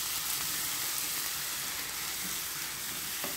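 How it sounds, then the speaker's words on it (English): Ground meat sizzling in a frying pan, a dense, continuous loud hiss with no breaks and no voices, only faint scrapes underneath. "I'm going to fry this up in the pan"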